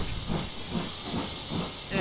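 Steady, broad steam hiss from GWR 6960 Raveningham Hall, a steam locomotive running on the West Somerset Railway, with soft rhythmic low pulses beneath the continuous hiss, close and fairly loud.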